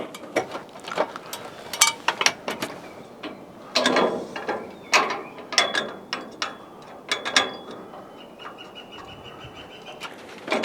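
A ratchet clicks in repeated short bursts while gazebo bolts are tightened on a Sojag Mykonos gazebo, with irregular pauses between strokes and a faint bird call in the background.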